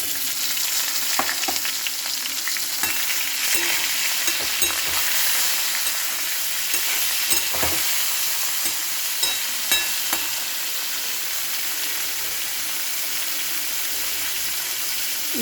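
Bottle gourd and drumstick pieces with a little coconut fry in a pan, making a loud, steady sizzle with occasional crackles and stirring scrapes throughout.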